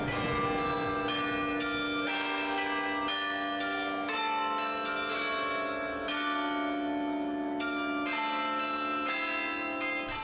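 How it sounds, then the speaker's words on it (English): The 24-bell carillon at Mont des Arts in Brussels rings out a clear melody, successive struck bell tones overlapping with long ringing decay, loud and steady in an open city plaza setting. "This is the carillon at Mont Arts. It consists of 24 bells and 12 painted figurines"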